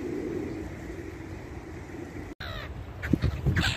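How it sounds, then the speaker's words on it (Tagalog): Crows being fed at Corniche Beach in Abu Dhabi, a few harsh caws near the end over steady outdoor background noise. "Feeding birds in the Cornets UAE."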